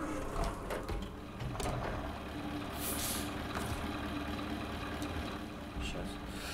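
A Mustang 5320 truck in SnowRunner rumbles at a steady engine idle, with a sharp hiss of air brakes releasing partway through and a few clicks, while someone talks over it.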